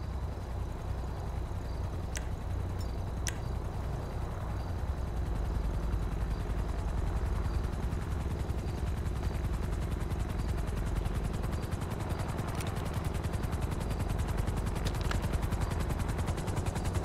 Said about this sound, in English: A helicopter has been dispatched.